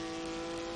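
Steady engine drone of a Ute race car on the Nurburg GP circuit in a racing video game, a continuous tonal hum held at low level through a brief moment with no talking.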